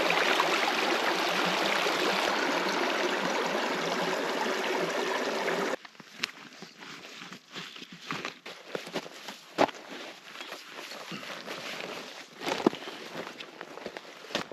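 The Tumut River rushes with a steady, loud broadband flow for several seconds in remote alpine wilderness, then cuts to a much quieter stretch with scattered footstep-like crunches and taps.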